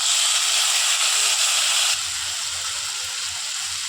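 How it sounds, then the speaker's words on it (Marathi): Potatoes sizzle in a pan with golden-brown fried peanuts for sabudana khichdi, giving a loud, dense, close hiss that drops slightly in level midway, no talk. "आता ह्याच्यात बटाट शिजवून घेऊ."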